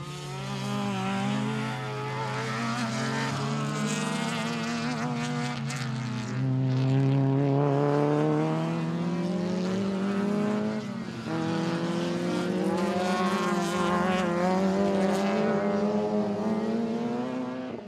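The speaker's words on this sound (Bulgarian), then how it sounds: "Следваше го Росен Русев с номер 16 от Odessus Racing Team с Honda Civic" Race cars, including a Honda Civic, lapping the Dolna Mitropolia circuit in 2014, engines droning and rising in pitch as they pass at middle distance, a sustained roar that swells and fades.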